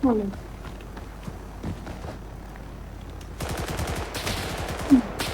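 Gunfire in the video game Blackhawk Rescue Mission 5, with scattered shots and then a denser burst of rapid firing from midway on, over game ambience with a voice briefly heard.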